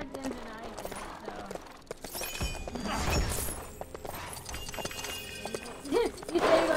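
Horse galloping with clip-clop hoofbeats and a neigh in the LEGO The Hobbit video game, mixed with game effects and a sharp crash, moderately loud under a busy soundtrack.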